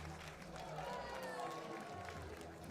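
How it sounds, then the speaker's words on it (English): Stadium crowd at an athletics triple jump meeting in La Chaux-de-Fonds gives a steady, moderately loud cheer with scattered clapping, a broad continuous wash of voices lasting a few seconds. "Gets a cheer from the crowd there."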